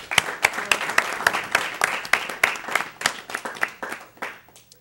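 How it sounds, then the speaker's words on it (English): A small group clapping at a youth commission meeting on homelessness, with distinct individual claps in a loose rhythm that thin out and fade toward the end. "Let's give another round of applause for Mr. Heary."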